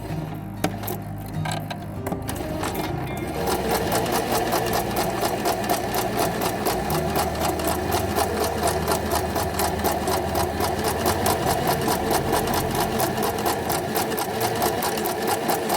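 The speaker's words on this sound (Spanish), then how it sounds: "siempre posicionada en costura recta centrada, podemos iniciar el trabajo de aguja doble" Venecia sewing machine running a straight double-needle stitch, a fast steady mechanical clatter with a rapid even rhythm, close and continuous after a few brief handling clicks at the start.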